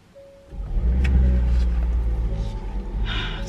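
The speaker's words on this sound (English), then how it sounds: "I put my car in drive instead of reverse." A car being driven, its engine rumbling up after a short quiet start and holding a steady low drone for several seconds, close and fairly loud.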